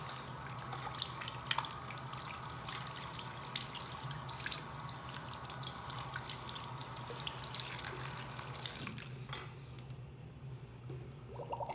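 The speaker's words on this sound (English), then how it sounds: "You'll go ahead and wash your hands with warm water to get the first 2 steps off your hands." Warm tap water runs steadily over hands at a sink, a continuous close splashing stream that cuts off near the end, leaving quiet drips and faint movement.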